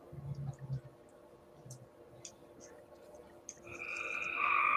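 Frogs croak and click at night in a steady outdoor chorus of scattered calls, with a louder, higher trilling swell rising near the end.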